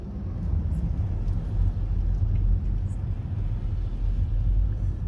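A learner driver's car pulls away in first gear on a Leeds road, a steady low engine rumble that holds fairly level and close for the whole stretch, with no talk over it.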